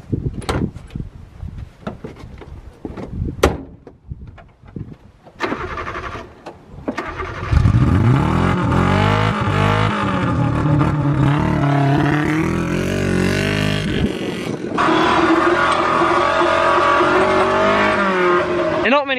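A race-spec Suzuki Sierra soft top with its top half undone cranks over after a few clicks and knocks, then its engine revs loud and close and drives off, pitch rising and falling through sustained running.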